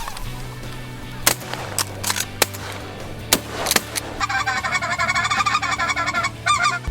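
Speckle-bellied geese honking in a loud, busy flock that grows into a dense chorus of overlapping calls, punctuated by several sharp, sudden bangs like shotgun blasts.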